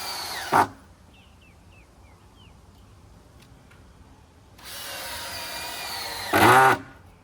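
A power drill driving screws into wooden posts for a duck pen, heard as two short bursts: a brief one at the start and a louder, longer whir near the end after a stretch of quiet outdoor ambience.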